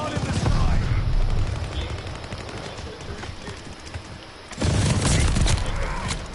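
Video game gunfire in a multiplayer match, dense bursts of rapid shots and booms in two loud stretches, mixed with voices talking over the action.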